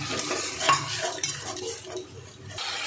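Spice paste (masala) being sautéed with a splash of water in a pan for a potato, kohlrabi and tilapia fish dish: steady metal-on-pan stirring and scraping over a soft simmering sizzle, close and continuous.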